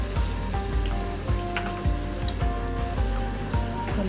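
A paste of ginger, green chilli and garlic fries with salt in a pan, giving a steady close sizzle with soft rhythmic scraping or stirring thumps, and no talking.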